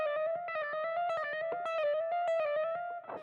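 Chiptune low HP warning theme from the Pokémon Black and White video game soundtrack: a bright, buzzy square-wave melody pulsing in rapid repeated notes over a steady low bass pulse, loud and alone for about three seconds.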